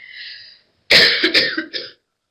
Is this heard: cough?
yes